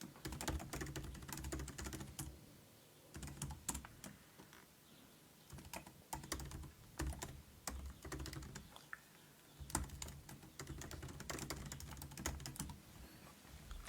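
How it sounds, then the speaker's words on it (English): Multiple lines of text are typed on a computer keyboard, producing quiet, rapid clicky keystrokes in uneven bursts with brief pauses between them, close up and without talk. "You can type in some text, several lines,"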